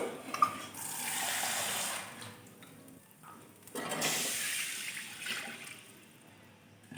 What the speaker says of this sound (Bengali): এবারে এই কড়াইতেই আমি একটু জল দিয়ে দেবো